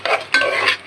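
Rice fried dry in a pot for polao is stirred in two close, scraping bursts with a light sizzle, loud and without talk.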